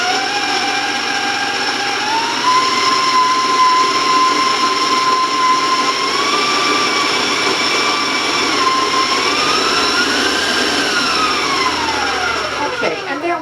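Electric mixer beats chocolate sugar-free applesauce brownie batter with a loud, continuous motor whine whose pitch wavers and slides up and down throughout.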